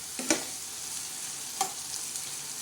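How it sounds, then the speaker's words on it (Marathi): Methi (fenugreek) and potato stir-fry being stirred in a pan after salting, with a faint continuous sizzle and two brief distinct scrapes of the spoon, no talk. "आणि आता परत एकदा असं छान हलवून घ्यायचं."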